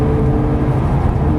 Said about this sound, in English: gently on the throttle into that blue cone